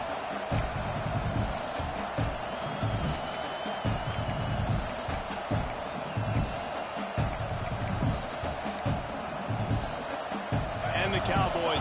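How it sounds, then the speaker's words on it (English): Home crowd noise in a college football video game, Michigan vs Oklahoma State, a constant roaring wash of cheering kept under steady commentary talk. "Man, this crowd really affecting the football game."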